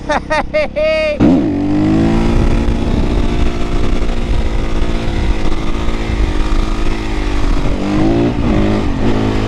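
A Supermoto motorcycle engine drones loudly and steadily while riding, its pitch wavering with throttle changes, after a brief burst of rising revs at the start. A voice is heard over the engine.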